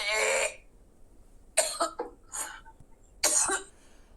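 A woman coughs in three separate bursts: a harsh cough at the start, then two more coughing fits after short pauses, each close and fairly loud with quiet gaps between.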